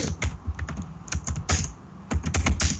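Rapid typing on a computer keyboard as a task is written out, with clustered clicks and keystroke bursts in an irregular rhythm, close and clear with no talking.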